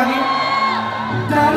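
A concert crowd at a show whoops and cheers loudly, shouts and yells blending into a continuous roar with sustained musical tones underneath.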